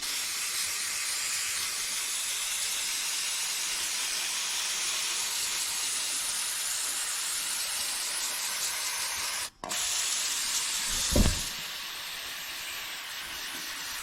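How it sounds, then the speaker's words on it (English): Brake cleaner hisses continuously from an aerosol can onto a cracked part of a 1974 John Deere 450B. The spray is loud and close, with a brief interruption and a low thump near the end. "Take some brake clean here, see if we can get some things cleaned off."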